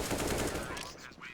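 A short, dense burst of rapid gunfire in a CS:GO esports match, loud and continuous for about a second before it tails off.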